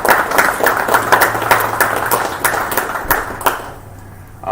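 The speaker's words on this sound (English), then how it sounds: "Huge round of applause to all of them." A crowd at a drivers meeting at the Road Atlanta racetrack claps for the novice drivers, a steady patter of applause that fades toward the end.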